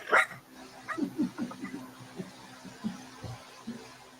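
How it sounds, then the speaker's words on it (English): A large dog barks repeatedly at close range, a cluster of barks and yips followed by scattered single ones, with light talk faintly underneath. "that's the big dog."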